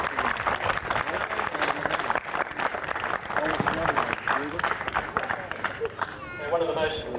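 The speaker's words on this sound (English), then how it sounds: "Another round of applause for them" Crowd applause and clapping for the 1994 premiership-winning team of the North West Christian Amateur Footy League, steady and sustained throughout, mixed with cheering and voices from the gathering.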